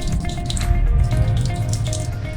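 Water runs from a tap into a sink as hands are wetted under it, a steady close splashing stream with small irregular spatters as the flow strikes the skin.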